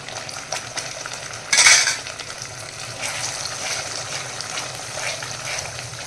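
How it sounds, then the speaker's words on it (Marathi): Ground fresh cashew curry paste frying in a pan, a soft steady sizzle with a brief loud clatter of a spoon stirring against the pan early on. "ते वाटण इथे छान मस्त फ्राय करून घ्यायचं आहे आपल्याला"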